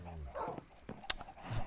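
Minecraft wolves give a few short, fairly faint yips and barks at irregular intervals, mixed with brief clicks in the game.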